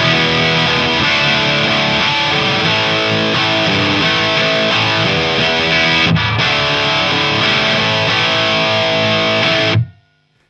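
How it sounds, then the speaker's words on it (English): Electric guitar played through an amp with the mids boosted, giving a thick, distorted classic 1970s rock tone; loud, continuous chords ring out for about ten seconds before cutting off abruptly. "with the mids boosted, the sound becomes much more like a classic 1970s rock tone"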